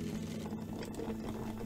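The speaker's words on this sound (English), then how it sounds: "Place eggs into boiling water, so that they start cooking right away." Quail eggs cook in a pot of boiling water, giving a steady, close bubbling and rolling simmer that runs without a break from start to finish.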